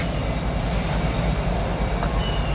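Railroad cars roll past on the tracks with a steady, loud rumble and low rhythmic wheel clatter, no voices.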